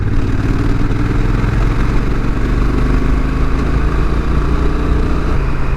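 A 2022 Honda NT1100 motorcycle engine pulling from just over 2,000 RPM in sixth gear at about 40 mph, a loud, steady, low mechanical drone with wind rush throughout and no talk.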